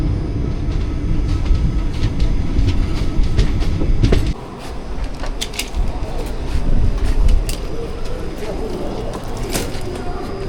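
The 16344 Amrita Express runs from Palakkad Town toward Thiruvananthapuram, heard as a steady rolling rumble on the rails with faint clicking rail joints, easing to a lighter rattle partway through, with a few bird calls.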